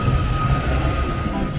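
A Merseyrail electric train rolls out from Liverpool Central, heard from on board as a steady low rumble of wheels and motor with a faint high whine, loud and continuous throughout.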